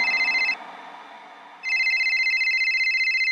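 A telephone rings in two bursts of bright electronic trilling separated by a brief pause, fairly loud and clear with no talk over it.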